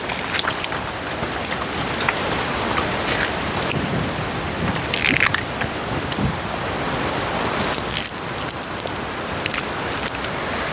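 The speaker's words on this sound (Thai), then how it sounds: "ฝนตก" Heavy rain falls steadily as a dense, continuous hiss of drops striking surfaces, fairly loud and unbroken throughout, with no voices.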